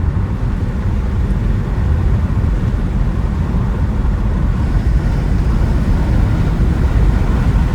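A retired police Dodge Charger drives along: a steady, loud low rumble of engine and road noise from inside the car, with constant wind buffeting and no talk.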